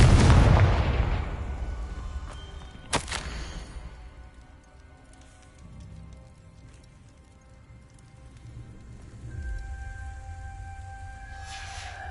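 The Confringo explosive spell in Hogwarts Legacy goes off with a loud booming blast that decays into rumble, followed by a sharp crack and later a swelling low whoosh.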